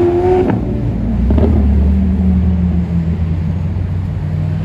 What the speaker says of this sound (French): Regardez, la Ventador ici. Oh, le bruit, c'est magistral.